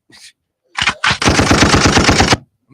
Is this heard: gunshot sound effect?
yes